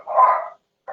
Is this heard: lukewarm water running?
no